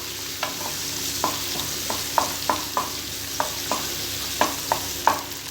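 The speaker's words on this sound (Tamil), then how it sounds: "இப்போ வெங்காயம் வதங்கிருச்சு" Onions sautéing in a pan for a Tamil pachai mochai masala gravy: a constant sizzle broken by regular scraping taps of a spoon stirring about once or twice a second, close and clear, with no voices.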